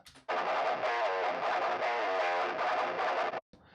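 A loud, heavily distorted, lo-fi guitar tone from a Tone Forge Jason Richardson amp plugin through a lo-fi pedal plays steadily for about three seconds with a gritty, band-limited character, then cuts off abruptly.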